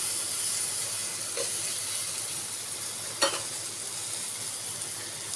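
Onions and tomatoes cooking down in a pan for an Assamese fish-head muri ghonto, with a continuous loud hiss and sizzle and one brief clatter as rice goes in, no talk.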